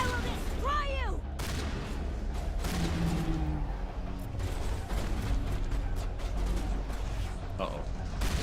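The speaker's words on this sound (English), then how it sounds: "Shepard shooting a bunch of colonists because he's bored." Gunfire from Mass Effect Legendary Edition rattles out in repeated sharp bursts and volleys over a constant rumbling game backdrop, fairly loud throughout, with brief voices mixed in.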